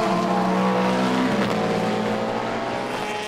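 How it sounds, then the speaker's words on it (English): GTE race cars, an orange Aston Martin and a Proton Porsche, roar past at Monza with loud, steady high-revving engine tones that shift pitch as they pass, sustained throughout. "Michael Dynan in the orange Aston Martin, being passed by Mikkel Pedersen in the 77 Proton Porsche"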